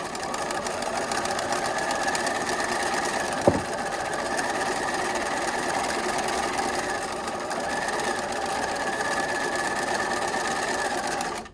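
A sewing machine stitches the crown of a fleece beanie in a continuous, steady mechanical whir, close and even. One brief tap interrupts it partway through.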